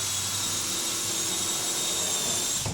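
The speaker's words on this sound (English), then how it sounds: "all I'm doing is just punching the pilot hole through and countersinking" A power drill with a countersink bit whines continuously at close range, drilling a pilot hole, a steady high-pitched grinding hum that cuts off at the end.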